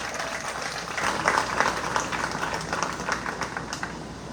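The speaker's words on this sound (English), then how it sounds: "Everybody give him a round of applause." Audience applause at a school preview night, a steady wash of many hands clapping that swells slightly midway and carries on throughout without pause.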